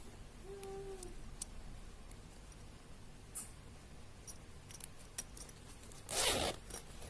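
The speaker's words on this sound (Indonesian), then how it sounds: "Kita masukkan kepala resleting" A zipper slider is worked onto a zipper for a sling bag: faint small ticks and clicks, then a short loud rasping zip near the end, close and quiet otherwise.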